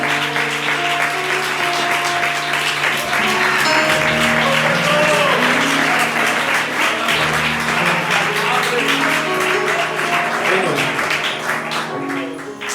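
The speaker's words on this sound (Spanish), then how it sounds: "Dale un aplauso al Señor." A church congregation claps steadily in sustained applause after a Spanish sermon, dense and continuous throughout, with organ or keyboard tones sounding underneath.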